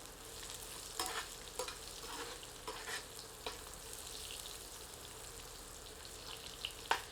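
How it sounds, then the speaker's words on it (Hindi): Chopped ginger and garlic sautéing in hot oil with spices in a pan, a soft continuous sizzle broken by scattered stirring scrapes, fairly quiet and close. "कटा हुआ अदरक सम्मिलित करते हैं। 1 से 2 मिनट भूनते हैं।"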